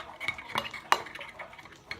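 A utensil stirs slime in a bowl, giving quiet repeated scraping and clinking taps against the bowl's side, close up with one sharper knock near the middle and no talking.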